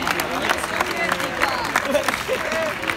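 Audience clapping and cheering at a rap battle, a steady dense roar of applause with crowd voices mixed in throughout.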